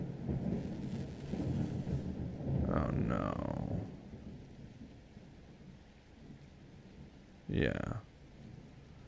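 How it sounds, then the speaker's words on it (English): Steady rain falls through a thunderstorm while deep thunder rolls and rumbles, followed later by a shorter, sharper crack. A soft voice speaks briefly over the storm. "The big scary thunder."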